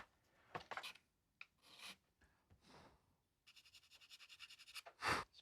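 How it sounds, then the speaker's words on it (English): Sandpaper rubs over filler on a prop Lawgiver pistol from Judge Dredd, first in a few separate scraping passes, then in a quick run of short rhythmic strokes ending with a louder swipe, close and quiet with no talk. "Let's sand the filler."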